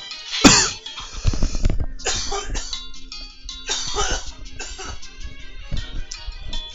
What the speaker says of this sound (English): Oh, I really got a cough.